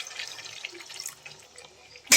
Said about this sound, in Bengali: এবার আমি এতে দিয়ে দেবো অল্প একটু জল